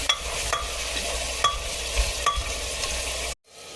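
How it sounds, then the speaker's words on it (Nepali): Meat stirred and fried in a pan with browned onions gives a continuous close sizzle broken by several scraping stirs, then cuts off abruptly near the end. "अब मैले यसमा मासु राखिसकेको छु।"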